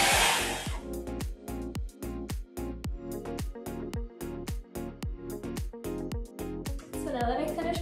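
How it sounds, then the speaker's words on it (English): A handheld blow dryer drying hair gives a steady, close, loud whirring hum, with the airflow pulsing rhythmically as the dryer moves, throughout the whole stretch. "I use a blow dry tool to blow dry my hair when I don't have my hair dresser"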